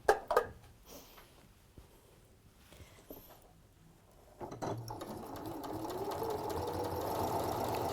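A sewing machine stitches a seam along a clipped fabric edge, starting after a few soft handling knocks and running as a steady, close, continuous whir for the last few seconds.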